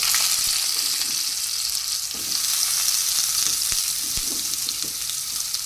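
Whole white cumin seeds sizzle steadily in hot oil as a tempering, with a continuous bright crackle and a few sharper pops close by, no talking.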